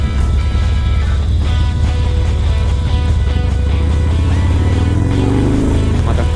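A motorcycle with new gearing riding through downtown San Diego traffic, its engine droning loud and steady throughout with a pitch that shifts slightly near the end, heard up close.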